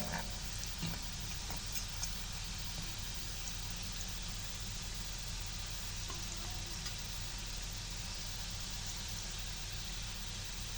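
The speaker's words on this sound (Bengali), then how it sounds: "একটু কড়া করেই ভেজে নেব, খেতে তাহলে ভালো লাগবে। 4-5টা সমানভাবে ভেজে নেব।" Garlic fritters deep-frying in hot oil in a home kitchen, a steady, dense crackling sizzle that holds evenly close-up throughout, with a few faint clicks and no voices.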